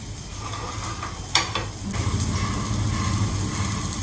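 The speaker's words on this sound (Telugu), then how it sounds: "స్టవ్ ఆపేసి కొంచెం సేపు ఈ వేడి మీద ఉంచితే ఇంకా మంచిగా రోస్ట్ అయిపోతుంది" Eggplant tawa fry keeps sizzling softly in a hot pan after the stove is switched off, a steady low crackle with a brief clatter of utensils near the middle, no voices.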